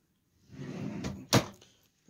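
A drawer in a camper's kitchen area slides open and shut, a soft rolling scrape followed by a sharp close thump, close and clear in a quiet interior.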